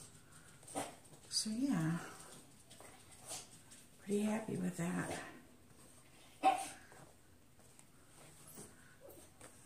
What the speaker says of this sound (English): Yes, we have a dog.